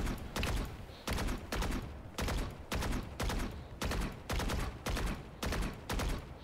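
Vandal rifle spraying in Valorant: rapid automatic gunfire in about eight loud, evenly spaced bursts, each a dense rattle of shots with short gaps between them, with no talking.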